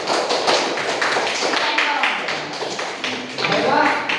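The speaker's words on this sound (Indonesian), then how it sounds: "Tepuk tangan untuk kelompok 1." Classroom applause from a junior high school science class, a burst of many hands clapping steadily for a few seconds with some voices mixed in.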